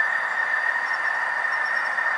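Model train running on a layout: a steady, fairly faint rolling rumble with a thin high metallic whine from the wheels on track, alone without talk.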